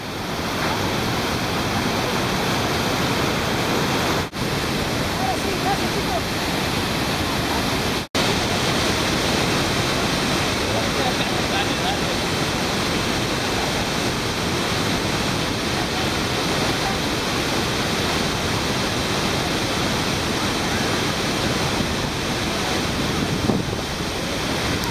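The Devil's Throat waterfall in Brazil gives off a loud, constant roar of rushing water, a dense unbroken wash with some wind buffeting the microphone.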